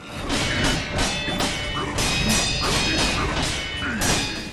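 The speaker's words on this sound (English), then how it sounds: "it's the sound of metal hitting metal." Repeated sharp metallic sword clashes and heavy impacts ring out in quick succession in the game Sekiro: Shadows Die Twice, blades striking each other amid whooshing swings, loud and close.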